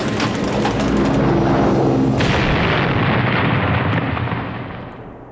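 Dramatized wartime aircraft explosion: a loud sustained roar of blasts and crackling debris that swells, then bursts into a sharp surge before slowly fading.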